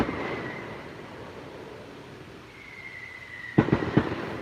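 Fireworks explode outdoors on a night in the Smoky Mountains: three or four sharp, loud bangs close together near the end, following a quiet stretch with a faint distant whine.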